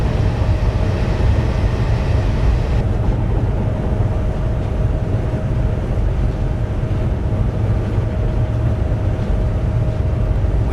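A Class 390 Pendolino train in Train Simulator 2015 coasting with no power between Preston and Carlisle, giving a steady loud rumble of wheels and running gear with a faint constant tone above it, no speech.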